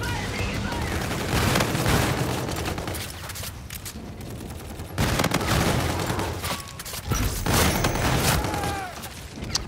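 Hailstorm pistol firing in a video game, dense bursts of rapid shots with mechanical clatter, loud and close, broken by brief pauses between volleys.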